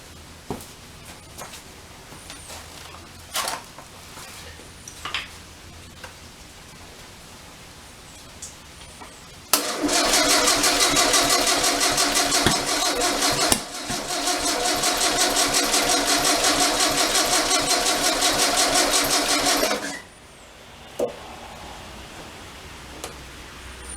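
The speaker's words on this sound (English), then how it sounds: "So let's give this a whirl and just going to see if it starts." A 36hp Okrasa engine on its first start attempt, with a few faint clicks, then a loud sustained cranking and running roar for about ten seconds with a brief stumble, and then a sudden cutoff.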